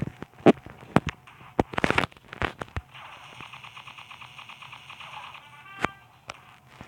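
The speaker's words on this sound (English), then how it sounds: "I'm gonna toss a grenade inbound right there." A grenade blast in the mobile shooter Pixel Gun 3D, set among sharp gunfire cracks and bursts, followed by a sustained rushing, crackling roar with a faint electronic whine, then a few more loud shots.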